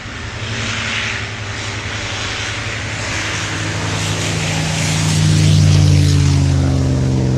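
Loud, continuous droning of warbird propeller aircraft engines, a rumbling roar that builds and shifts in pitch as planes pass close by.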